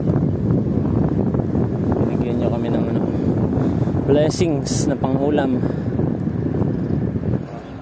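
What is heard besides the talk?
strong wind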